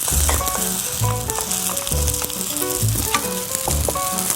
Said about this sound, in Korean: 노릇노릇한 상태가 되도록 구워주세요